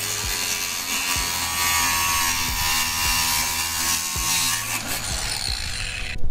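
A bolt being cut with its nut still threaded on during an Evo 9 battery relocation, with continuous harsh grinding and close, loud, steady mechanical noise, a few irregular low knocks, and a sharp clatter at the very end.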